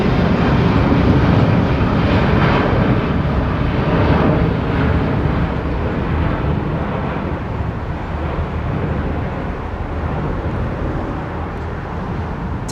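An airplane at London Heathrow Airport roars as a steady, loud, broadband engine rush that slowly fades slightly over several seconds, with no talk.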